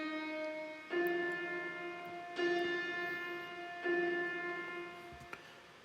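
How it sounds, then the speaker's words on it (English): Piano drenched in wet-only reverb, a few soft chords that bloom into long, washy sustained tails, quiet and alone with no talking. "So in Space Designer, I've taken all the dry out and added loads of wet"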